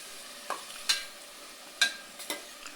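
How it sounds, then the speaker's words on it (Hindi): Potatoes and peas frying in a pan, a faint sizzle punctuated by a few sharp clinks and scrapes of a stirring spoon against the pan. "इस सब को थोड़ा सा पहले फ्राई करेंगे ताकि आलू हमारे फ्राई हो जाएं"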